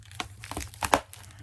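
Tape and packing material crinkle and tear as a tightly taped item is pulled out of a mystery comic box, giving a series of close, short rustling bursts with no talk.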